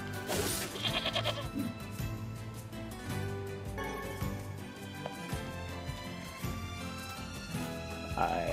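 Sheep in the video game NieR Replicant bleat repeatedly amid game music and effects, with someone talking over much of it.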